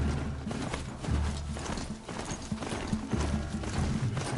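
A horse gallops in the video game Horizon Zero Dawn, its hooves striking in a quick, steady clip-clop rhythm, fairly close and unbroken.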